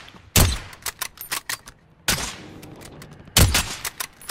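Shotgun blasts in the Warzone battle royale game, three sharp loud booms spaced over about four seconds, with quieter clicks and handling noises between them.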